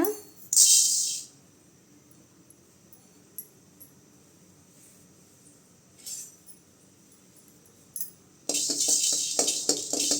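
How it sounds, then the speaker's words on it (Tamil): Fenugreek seeds fry in a pan for a South Indian okra tamarind curry, with a loud burst of sizzling crackle at the start, a quiet stretch with faint pops, then a sustained bright crackling hiss at the end. "வெந்தயம் நல்லா பொரியுதுங்க"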